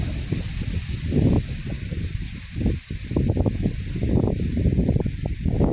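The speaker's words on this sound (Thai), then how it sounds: "ลมก็ค่อยๆแรงมาครับ" Wind building ahead of an approaching rainstorm outdoors, a steady broad rushing roar with gusty swells and brief lulls, continuous and fairly strong, no talking.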